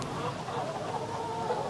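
A chicken clucks softly and continuously, a steady low murmur of fowl sounds at moderate distance with no talking.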